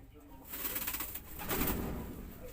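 Pigeons in an aviary of Taiwan birds give soft, repeated coos close by, rising in a brief low murmur midway, with faint rustling around them and no clear talk.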